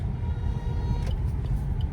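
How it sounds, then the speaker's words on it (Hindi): A car drives along a road and turns left, its steady low engine rumble and road noise continuous and close throughout, with no talking. "ये हमने गाड़ी लेफ्ट में ले ली है"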